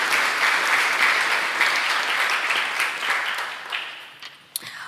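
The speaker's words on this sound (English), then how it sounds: "we can just give a huge round of applause for all these great Leo, Michaela, Caden," A dense wash of applause from an audience honoring scholarship recipients at a Martin Luther King Jr. scholarship award event, loud and steady at first, then thinning and fading, with a few stray claps near the end.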